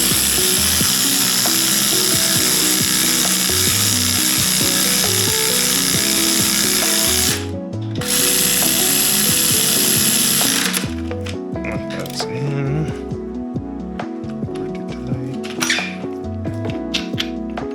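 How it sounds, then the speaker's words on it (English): Electric ratchet with a 14mm socket whirring loudly as it runs bolts out during a 1.5JZ turbo engine swap on a Datsun 240Z, a steady high buzz broken by a brief pause, then shorter bursts and clicks of tools close by. "Let's go in here with a 14mm socket, electric ratchet, and start running."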